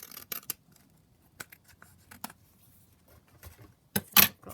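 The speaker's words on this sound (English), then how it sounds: "So I'm just going to cut the ends just so they're slightly neater." Scissors trim the ends of paper for a children's book craft, a handful of short crisp snips with quiet gaps, close up, ending in a louder rasping cut.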